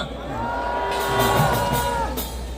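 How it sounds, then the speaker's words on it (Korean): Rally crowd at a Gwanghwamun protest in Seoul cheering and applauding, a dense sustained roar with bursts of shouts rising through the middle, fairly loud and continuous. "큰 박수로 격려해 주십시오. 네, 박수!"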